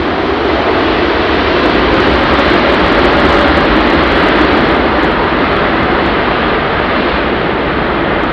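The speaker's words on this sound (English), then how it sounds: "Intersecting departure for a 380." Airbus A380 taking off from an intersection at London Heathrow in low visibility, its engines producing a loud, continuous jet roar that holds steady from start to finish with no talking.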